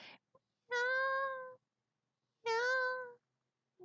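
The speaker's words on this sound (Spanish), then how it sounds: "desde allí maullaba pidiendo auxilio" Two drawn-out, clearly pitched cat meows used as a sound effect in a Spanish children's audiobook, each close and clean, separated by a short silence.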